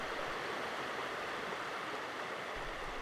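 Jumping Pound Creek rushes around boulders edged with splash ice, a steady, dense hiss of flowing water that holds even throughout, close and moderately loud, with no voices.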